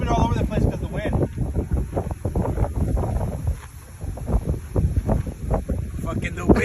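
Outdoor wind blows into the microphone, a loud, continuous rumbling buffet that dips briefly and then returns, with people talking underneath.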